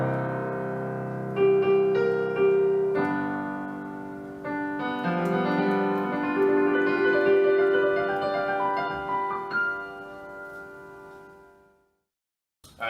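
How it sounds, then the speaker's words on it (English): A solo piano plays a part from a piece, a flowing melody over sustained chords that swells and thins out before fading to silence near the end, with no voices. "altogether the piano solo should sound something like this"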